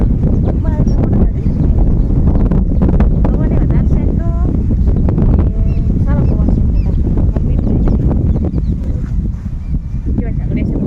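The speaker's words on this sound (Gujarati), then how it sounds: "પવન બહુ છે ને એટલે" Strong wind in open farm fields buffets the microphone continuously with loud, rumbling gusts, while voices talk faintly underneath.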